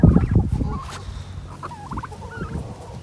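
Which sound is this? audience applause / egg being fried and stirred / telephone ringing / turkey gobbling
turkey gobbling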